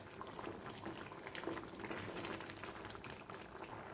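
Thick green gram curry bubbles gently over a low flame, a steady close patter of small pops and blips throughout.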